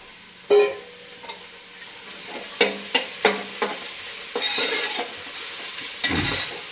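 Washed vegetables frying in oil with reddened onions for vegetable pulao, a soft sizzle broken by a series of sharp scraping and clinking stirs against the pan.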